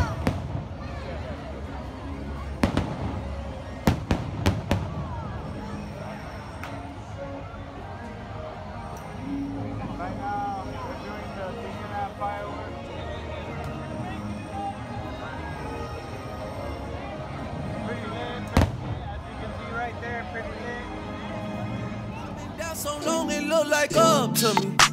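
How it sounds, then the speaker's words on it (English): Nighttime fireworks at Disneyland, with scattered booming bursts and a crackling flurry near the end, heard at a distance over a steady murmur of crowd noise. "let's end off the night with some fireworks"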